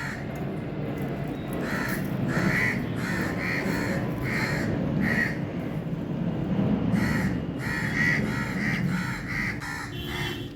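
Several crows caw repeatedly nearby, harsh calls in irregular bursts over a constant low rumbling background.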